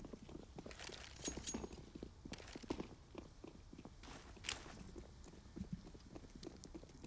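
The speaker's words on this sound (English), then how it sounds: "He knows it's likely this B hit with all these footsteps coming in." Rapid, overlapping footsteps of several players running in CS:GO on the Overpass map during a professional match, light irregular taps at fairly low volume approaching from a distance.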